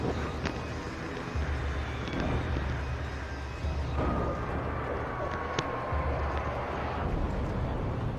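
Helicopter in the video game Alan Wake: a steady, loud broadband rotor and engine roar with a low rumble fills the whole stretch, with a few brief sharp knocks over it and no talk.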